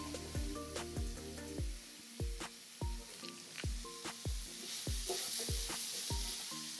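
Mushrooms and onions sizzle in a frying pan for Swedish meatballs, a soft steady hiss running beneath plucked, melodic background music.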